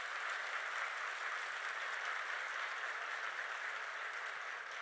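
An outdoor crowd at a municipal opening ceremony in Burdur applauds in a dense, steady wash of clapping that holds its level throughout, with no speech.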